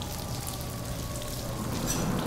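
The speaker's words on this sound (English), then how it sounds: "Sounds like rain, looks like rain." Rain created as a practical effect on a film set, a steady soft hiss of water falling on surfaces, even and continuous throughout with no voices.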